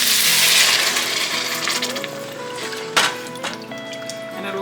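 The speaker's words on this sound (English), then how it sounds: "And now I'm going to add the stock." Chicken stock pours into a hot pot of brown-butter acorn squash, a loud sizzling splash that gradually settles, with a sharp clatter partway through and a faint voice nearby.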